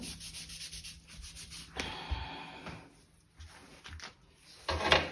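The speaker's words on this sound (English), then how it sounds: "just wiping off the excess paint here" Wet wipe rubbed over a painted canvas to lift excess paint, a series of short scrubbing and rubbing strokes with small pauses and light taps, close and fairly quiet.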